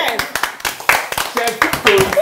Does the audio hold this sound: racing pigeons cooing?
no